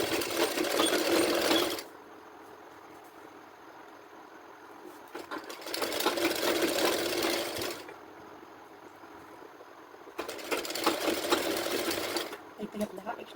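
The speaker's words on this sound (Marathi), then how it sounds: "इथं बरोबर आपल्याला शिलाई करून घ्यायची" A domestic sewing machine stitching blouse fabric in three bursts of rapid, buzzing whir, each a couple of seconds long, separated by quiet pauses.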